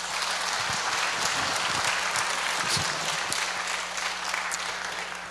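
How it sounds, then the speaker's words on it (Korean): Church congregation applauding steadily to welcome a pastor at a worship service, a dense, even wash of many hands clapping at close range throughout, with no talk over it. "박수로 환영해 주시기"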